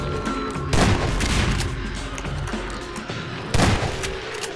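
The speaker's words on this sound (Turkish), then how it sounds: "Bomba tüfek. Zombilere karşı kullanılan en etkili silahlardan biri." A bomb rifle from Transmission Element 120 fires against zombies in two loud, sharp blasts a few seconds apart, each with a heavy low thump over constant game noise and background music.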